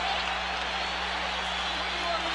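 Boxing arena crowd at the 1991 Holyfield vs Foreman heavyweight fight rising and cheering after the 11th round, a steady dense roar of applause and voices filling the hall with a low hum beneath.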